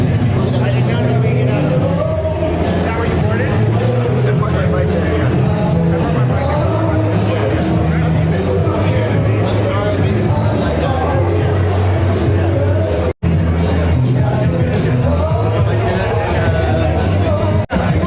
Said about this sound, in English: Big crowd here.